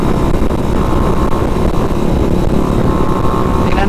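A Rusi motorcycle engine drones loudly and steadily up close, a continuous rough revving roar that holds constant throughout.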